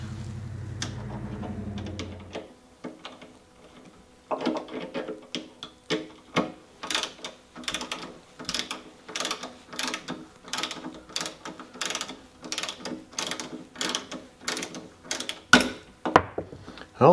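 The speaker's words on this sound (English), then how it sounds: "I'm going to back these screws out slowly." Screws on a BMW i8 trunk lid unit are backed out with a ratcheting hand tool, giving a steady run of close, sharp clicks after a brief low rumble at the start.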